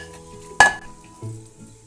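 Hot tempering is tipped into a pot of ven pongal, giving one sharp clink and a brief sizzle, followed by quieter stirring scrapes against the pot.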